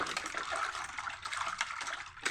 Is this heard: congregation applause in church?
no